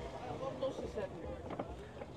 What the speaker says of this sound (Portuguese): o amigo vai dar partida aqui no motor para a gente escutar o veículo funcionando